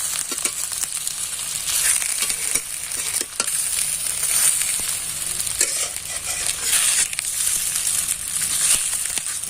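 Potato and semolina pieces fry and sizzle steadily in a pan after being flipped one by one, a continuous bright crackle with scattered louder pops and scraping, no talk.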